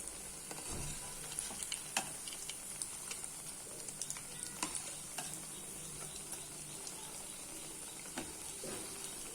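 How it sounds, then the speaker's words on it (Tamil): Sweet corn cutlets shallow-frying in hot oil: a steady, quiet sizzle with small scattered pops and crackles throughout, without voices. "நல்லா ஃப்ளிப் பண்ணி குக் பண்ணி எடுத்துருங்க"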